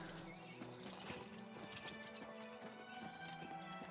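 Horse hooves clip-clopping in a steady rhythm with a brief whinny, layered over a continuous background music bed, from the video game Oblivion Remastered.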